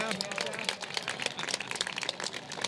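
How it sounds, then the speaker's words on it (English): A crowd applauds the Boston Police Department command staff at a National Night Out 2019 gathering in Jamaica Plain, with dense, lively clapping close by over a short burst, mixed with voices. "How about a round of applause for the command staff?"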